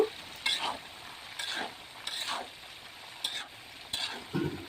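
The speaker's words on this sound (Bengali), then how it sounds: "বড়িগুলোকে খুব ভালোভাবে নেড়ে চেড়ে তেলের সাথে ভেজে নিতে হবে" Dried jujubes fried in oil with spices for a sweet-sour pickle, a soft sizzle broken by repeated scraping strokes of a spoon against the pan, close and fairly quiet, no speech.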